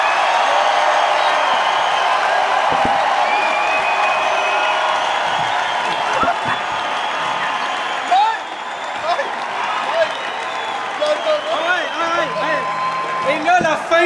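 A comedy-show audience in an arena applauding and cheering a comedian on stage, with a loud, sustained roar of clapping, whoops and crowd noise that continues throughout while voices talk over it.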